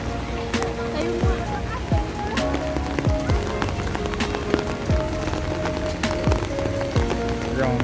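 Steady rain falls in Baguio City, a dense continuous patter of drops on surfaces with scattered louder drips throughout, close and even in level.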